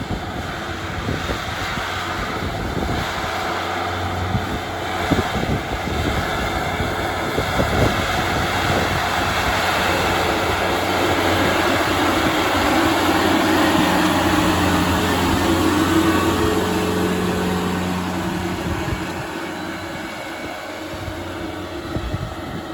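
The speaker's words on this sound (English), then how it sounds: "we first broke the ground this spring with a 2-bottom plow that I purchased at a local farm auction and pulled it behind my tractor" A tractor pulls a two-bottom plow, bought at a farm auction, to break ground for a chestnut and pawpaw orchard, producing a steady low engine rumble with rattling and wind buffeting that runs continuously and swells slightly midway.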